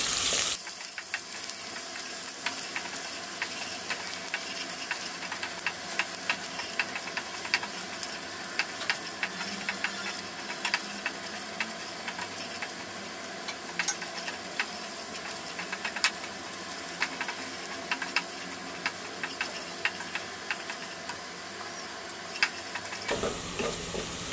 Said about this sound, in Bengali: যে পেঁয়াজ কুচিটা নিয়েছিলাম এটা দিয়ে দিলাম, একটু ভেজে নেব